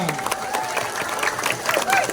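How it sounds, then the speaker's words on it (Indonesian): Applause from a crowd in Bojong Loa Kaler, Kopo, Bandung, fills the space, a dense steady clatter of clapping with cheering voices mixed in, sustained throughout at moderate loudness. "Ayo kita berikan tepuk tangan buat mereka."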